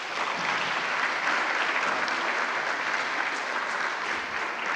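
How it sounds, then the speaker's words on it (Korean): A church congregation at an autumn gathering in Daegu applauds steadily to welcome a guest, a dense, even wash of clapping hands that holds at the same level from start to finish with no voices over it. "우리 박수로 환영해 주시기 바랍니다."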